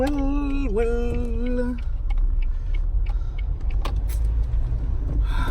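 Car on the road with its windows rolled down, a steady low rumble and wind wash throughout; a voice hums a melodic line briefly at the start, with small clicks and rattles later.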